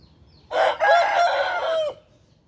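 A Burmese fighting rooster crows once, loud and close, a single drawn-out call of about one and a half seconds standing alone over faint background.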